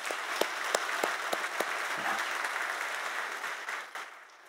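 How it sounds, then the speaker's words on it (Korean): A congregation at a Korean Sunday church service applauds in thanks, with a few sharp individual claps standing out from the dense clapping before it thins and fades near the end. "우리 하나님께 감사의 박수 올려드리도록 하겠습니다"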